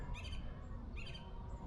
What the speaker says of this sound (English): There's these gorgeous, big parrots that keep flying back and forth between the pine trees.